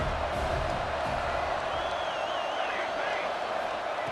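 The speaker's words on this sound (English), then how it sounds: "3rd down, and the crowd really getting into it." A stadium crowd roars steadily on a third down during a College Football 26 video game match against Michigan, a dense, sustained wash of cheering with commentary talking over it.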